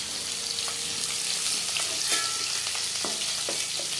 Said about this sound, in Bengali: সব মাছগুলি ভাজা হয়ে গেছে